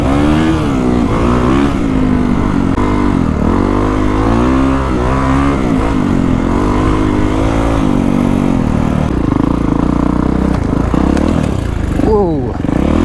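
A motorcycle ridden wide open across the desert: a loud, close, continuous engine roar whose revs rise and dip repeatedly, with a brief rising whine near the end and a voice partly audible over it.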